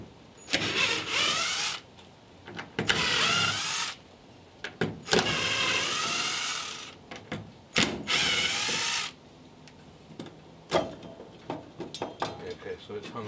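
Cordless power tool running bolts off the fuel tank assembly and filler neck of a 1968 Camaro: repeated loud whirring bursts of one to two seconds with short pauses and clunks between, close by, with someone talking in between.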